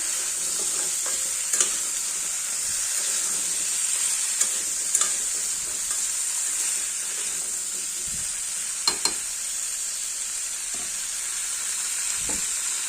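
Potatoes and amaranth stalks stir-fry in oil with turmeric and salt: a steady sizzle runs throughout, broken by scattered sharp scrapes and clicks of the spatula against the pan.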